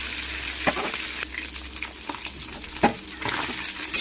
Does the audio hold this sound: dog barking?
no